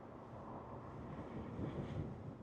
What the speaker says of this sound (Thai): โอ้ลม ลมแห้งนะครับพี่น้อง